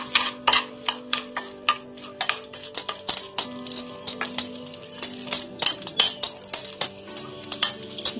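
Grated coconut being mixed into pomfret fish with a spoon in a bowl, a steady run of light clinks and scrapes in an irregular rhythm, quiet and close with no talk.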